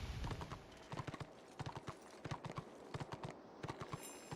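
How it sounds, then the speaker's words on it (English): Horse hooves gallop in the online fantasy game Warhammer Online, a steady, close clip-clop rhythm of repeated sharp hoofbeats over a faint ambient game backdrop. "Let's get on our horse and get back to where we're supposed to be."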